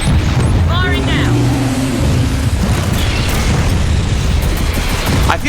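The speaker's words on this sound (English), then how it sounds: "Firing now." A missile fires and explodes in Gears of War 4, with a booming rumble under constant low roar and voices talking in the first seconds, then the blast fading into a dense, steady rumbling wash.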